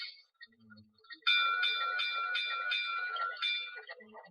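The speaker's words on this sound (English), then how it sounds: "If I want to make it like a brass Canadian bell for whatever reason" A Blunami model train sound decoder plays a brass Canadian bell, ringing loud and steady with repeated metallic strikes at an even rate for a few seconds, preceded by faint soft noises and ending abruptly.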